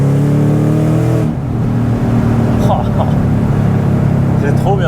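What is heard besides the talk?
Mustang Shelby GT500 accelerating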